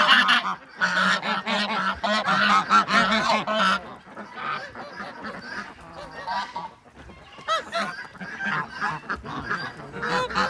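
Geese on a farm that keeps geese, ducks and other waterfowl honk loudly and repeatedly in overlapping, close-up bursts, with no talking.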